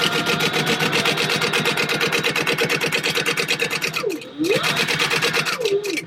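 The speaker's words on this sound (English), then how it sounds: "I am going to back stitch" A sewing machine back stitches a crossbow bag seam 1/8 inch in at stitch length 4. Close, fast rhythmic needle clatter runs continuously, halts briefly with a short whine, then resumes.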